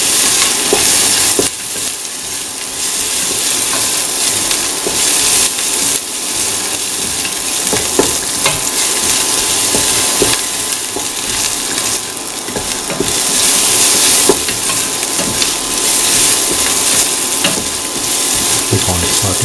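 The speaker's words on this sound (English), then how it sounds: "saute the shallots and the garlic together" Shallots and garlic sautéing in a pan, a loud continuous sizzle broken by frequent scrapes and knocks of a utensil stirring against the pan.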